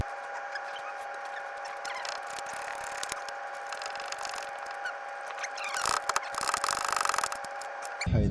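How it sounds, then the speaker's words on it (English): A small ratchet tightens bolts on a Chrysler Pacifica, close by. Faint rubbing, scraping clicks run throughout and grow into denser, louder bursts of rapid clicking near the end, with no voices. "Where's my little tiny ratchet?"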